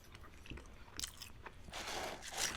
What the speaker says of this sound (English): I enjoy the crunchiness from the romaine